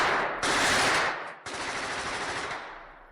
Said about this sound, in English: more gunshots echo out from the barracks up